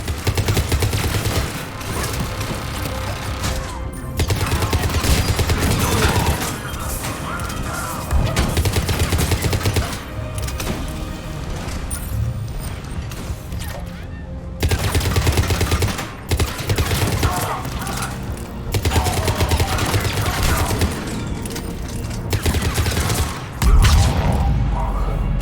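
Turret gunfire in Mass Effect 3 rattles in long, loud sustained bursts separated by brief pauses, dense rapid shots filling the whole stretch.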